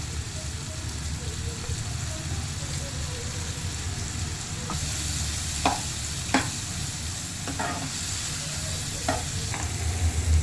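Bisi bele bath spice powder frying in ghee in a pan, a constant close sizzle with several sharp spoon clicks and scrapes against the pan as it is stirred.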